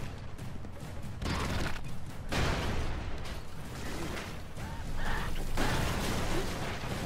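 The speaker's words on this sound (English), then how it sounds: "Did I just shoot a rocket up there?" Rocket and gunfire effects in the side-scrolling action game Broforce, a dense run of explosive bursts and mechanical clatter that swells in loud waves, with no talk over it.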